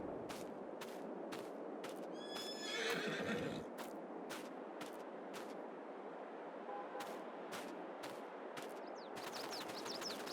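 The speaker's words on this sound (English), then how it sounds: "here we have our horse area, 16 horses" Horses in the Farming Simulator 22 video game: a loud whinny rises in the middle over steady clip-clop hoofbeats, with sharp repeated clicks, and another high whinny breaks out near the end.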